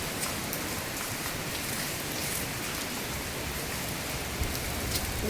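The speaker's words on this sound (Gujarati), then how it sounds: "આ જોરદાર વરસાદ ચાલુ થઈ ગયો છે" Heavy rain pours down steadily, a dense, even roar of drops hitting surfaces close by, with no voices.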